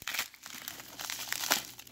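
Close crinkling and crackling of silver coin packaging being opened, with quick irregular rustles and tears over a couple of seconds.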